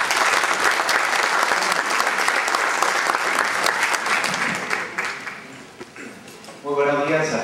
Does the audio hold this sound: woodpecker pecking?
no